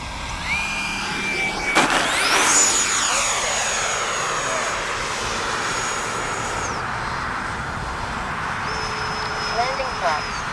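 A red and white radio-controlled YAK-130 model jet whooshes past at dawn, its turbine whine rising as it nears and fading as it moves away, then pitching up again near the end, with someone talking over it.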